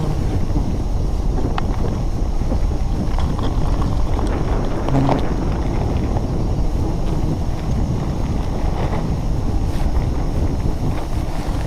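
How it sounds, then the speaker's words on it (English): Wind rushes steadily through a forest high up in the trees during wild honey hunting, a constant broad roar and buffeting with a few faint creaks and knocks and no talking. "The wind is picking up slightly, causing the branch to sway gently."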